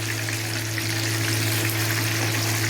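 Hariyali chicken tikka, already cooked, browns gently in a pan with a soft, even sizzle and faint crackle beneath a low steady hum, with no one speaking.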